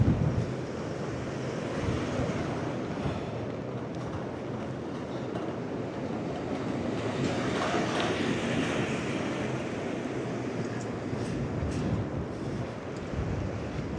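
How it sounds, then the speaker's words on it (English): Strong, steady wind roars and buffets the microphone outdoors, a dense rushing noise that swells slightly in the middle and never lets up. "wow, that's windy."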